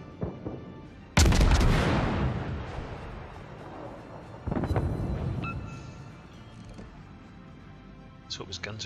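Battleship artillery in the video game World of Warships fires two heavy booming salvos several seconds apart, each rolling off into a long rumbling decay, heard near a destroyer.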